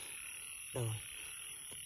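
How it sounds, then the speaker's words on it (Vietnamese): A tiny young frog caught on a nighttime frogging trip gives one close, short croak, standing out against a constant chorus of night insects. "các bạn có một con ếch nhỏ xíu này ếch non này"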